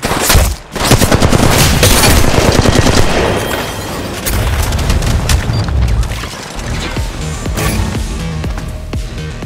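Heavy, sustained gunfire and booming impacts from an enemy squad in Apex Legends Mobile at Kings Canyon, loud and close, with bursts overlapping almost continuously and a brief gap early on.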